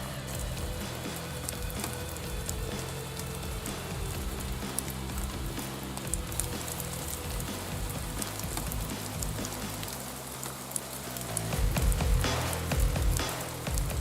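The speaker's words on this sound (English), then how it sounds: "Then we had a random hailstorm just appear out of nowhere." Steady dense pattering of hail striking surfaces in the bush, continuous and fairly loud, swelling stronger near the end.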